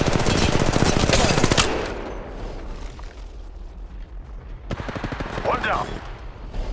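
Bursts of automatic gunfire in Apex Legends Mobile: a loud, dense rattle of rapid shots up front, then quieter scattered fire and a short final burst, with game voice lines over parts of it.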